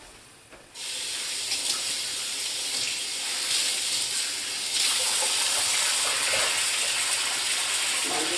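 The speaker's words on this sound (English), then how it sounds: "rinsing the rag, swishing it in the rag to get it washed out" Running water pours steadily into a sink while a rag is rinsed and swished through it, a continuous broad hiss that starts abruptly and holds close and loud throughout.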